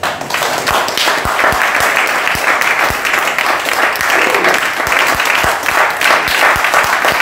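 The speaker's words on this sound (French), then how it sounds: "Est-ce qu'on peut acclamer le Seigneur?" A church congregation breaks into sustained, loud applause and cheering for the Lord, dense clapping that holds steady throughout with crowd voices blended in.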